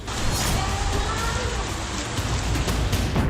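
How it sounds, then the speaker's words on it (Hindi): Rain falling in Gaza, a dense steady broadband hiss of downpour filling the whole stretch without letup, fairly loud and close. "गाजा में बारिश सर्दियों की दस्तक दे रही है"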